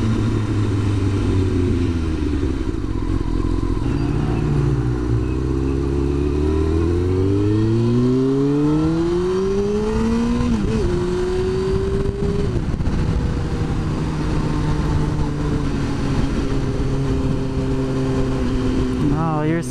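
A 929 sport motorcycle engine drones loudly and continuously while riding out to twisty roads. Its pitch climbs and drops with gear changes and throttle, under constant wind rush.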